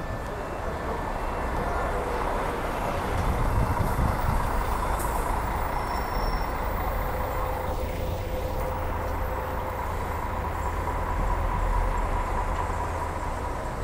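A Viação Sandra bus pulling into the Belo Horizonte bus station, a heavy continuous engine rumble mixed with the busy, echoing roar of the terminal and a brief hiss partway through.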